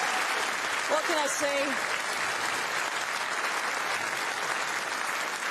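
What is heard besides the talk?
audience applause at snooker trophy ceremony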